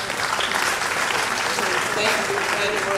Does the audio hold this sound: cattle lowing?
no